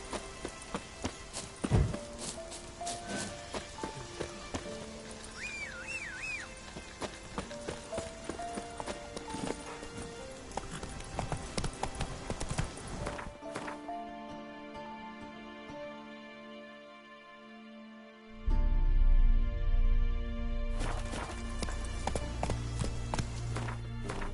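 The horse Roach in The Witcher video game, rapid hoof clip-clops as it trots and then breaks into a run, under game music and rumbling noise that swells near the end.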